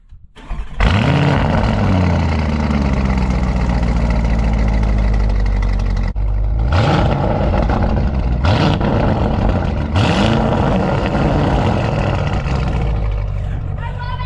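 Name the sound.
Lamborghini SUV engine revving with aftermarket exhaust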